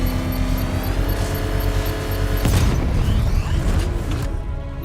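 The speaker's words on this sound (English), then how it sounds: "I can use the power winch to trigger a controlled explosion" In Batman: Arkham Knight, a power winch sets off a controlled bomb explosion. A sudden loud blast breaks over a steady hum of game music and machinery, then a long rumbling decay.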